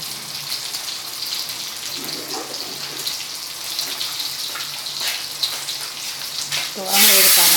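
Hot water pours into a pan of sautéed mushroom and meatball stir-fry, a steady hiss and gurgle that swells into a loud splashing rush at the end.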